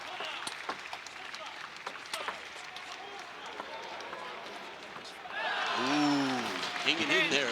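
Table tennis crowd at a world team championship quarterfinal cheers and applauds, rising suddenly to a loud swell near the end after steady broadband noise and commentary.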